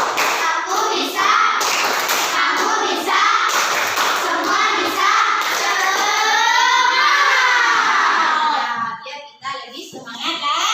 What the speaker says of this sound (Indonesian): coba tepuk semangat dulu biar kita semangat